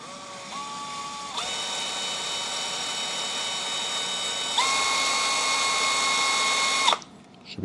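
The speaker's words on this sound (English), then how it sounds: "Let's get to it and try and drill as straight as I can." A power drill boring into cast iron on a Lagun FT-1S vertical mill, a steady high whining drone that steps up in pitch twice as the motor speeds, then cuts off abruptly near the end.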